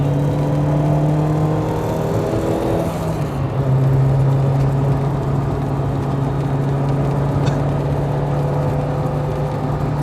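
Toyota AE86 with a 4AGE engine and 6-speed gearbox drives through a turn on a mountain touge road, its engine droning steadily with a pitch drop as it shifts, heard from inside the car over continuous road noise.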